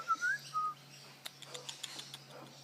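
A wild king parrot gives a few short, high whistled calls at close range, followed by soft scattered clicks and taps over a faint steady hum.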